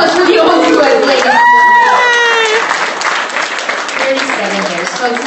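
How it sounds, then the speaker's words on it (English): A crowd at a murder mystery dinner show in Las Vegas applauds a long-married couple, loud clapping mixed with cheers, whoops and voices, a drawn-out whistle-like whoop rising over it partway through. "Big round of applause for the old newlyweds, ladies"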